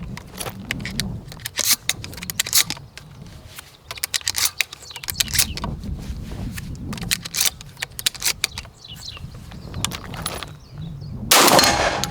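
A Benelli M3 dual-mode shotgun is worked by hand during break-in, its action clacking and shells rattling in a series of sharp, irregular metallic clicks and snaps, ending with a louder burst.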